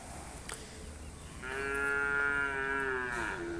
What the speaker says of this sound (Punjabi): ਦੋਸਤੋ ਸਾਡੇ ਕੋਲ ਗਾਵਾਂ ਸੂਈਆਂ ਵੀ ਹੈ ਨੇ ਕੁਝ